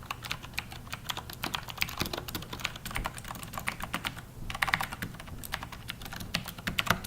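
Rapid, steady typing on a mechanical keyboard with Cherry MX Blue switches, a close, dense stream of crisp clicky keystrokes with brief pauses, no talking.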